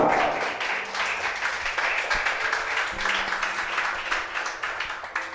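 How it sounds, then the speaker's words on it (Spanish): Church congregation applauding during a worship service, steady continuous clapping from many hands in a reverberant room, moderately loud and unbroken for the whole stretch. "Dale un aplauso al Señor, hermano."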